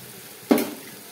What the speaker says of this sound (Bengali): পেঁয়াজ আর ক্যাপসিকামটা খুব ভালো করে ভেজে নিলাম